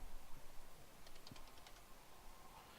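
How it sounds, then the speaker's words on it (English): Numbers being typed on a computer keyboard, a quick burst of soft clicky keystrokes in the middle against faint background hiss. "I'm just typing numbers in."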